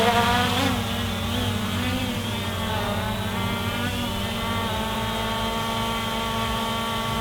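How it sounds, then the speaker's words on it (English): An MJX Bugs 2 B2C GPS camera drone with brushless motors hovers close by, giving a steady high-pitched buzzing whine with shifting tones as the motors adjust, loud and continuous. "The brushless motors sound amazing."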